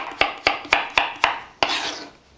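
A knife dicing carrots on a cutting board: six crisp, evenly spaced chops about a quarter second apart, close and loud, the last stroke followed by a brief scraping drag.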